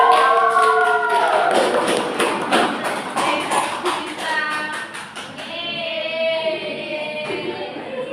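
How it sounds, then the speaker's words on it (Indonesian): Classroom applause for presenting student groups, a dense patter of claps from many children that rises, thins briefly, then swells again, with a young voice calling out near the end. "Kelompok 1, 2, 3, 4, 5, berikan tepuk tangan."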